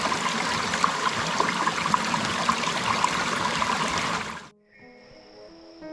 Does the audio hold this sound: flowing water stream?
yes